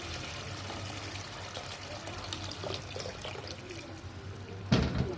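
Hot water poured into a cooking pot, a steady low splashing and trickling stream running continuously at moderate volume, ending with a brief louder clunk near the close.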